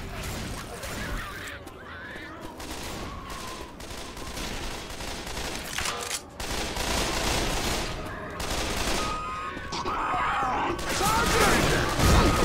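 Sustained bursts of gunfire in the Left 4 Dead 2 zombie shooter, dense and continuous across the clip with mechanical clatter and crashes layered in, plus brief in-game voice callouts.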